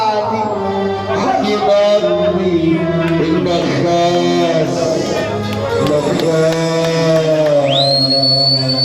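A whistle shrills over a loud Egyptian wedding party in Sharqia, rising into a sustained high tone near the end, with music and voices underneath.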